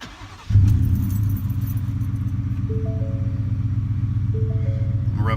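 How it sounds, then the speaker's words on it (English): A 2018 Ford F-150 fitted with a cold air intake and Magnaflow dual exhaust fires up with a sudden loud roar, then settles into a deep, steady rumbling idle with a couple of brief rising revs near the end, close by. "Rev it up so y'all can listen to it."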